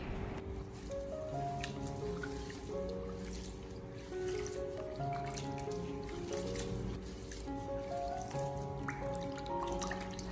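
Dried prunella (self-heal) herb is rinsed and swished by hand several times in water to wash out sand and grit. Soft, close sloshing, dripping and trickling go on steadily at a low level, with no speech.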